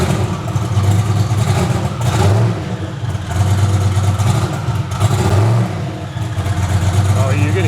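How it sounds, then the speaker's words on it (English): A turbocharged 1000HP Foxbody engine with a big turbo revs hard in a shop, a loud, dense roar that surges and falls in repeated pulls, with turbo whine and a voice talking over it. "Oh, you can hear the turbo."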